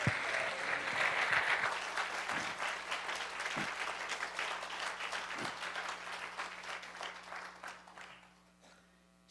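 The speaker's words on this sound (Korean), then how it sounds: "하나님께 영광의 박수를 드리겠습니다" A church congregation at a revival service in New York claps together in sustained applause, loud and dense at first, then thinning and fading out near the end.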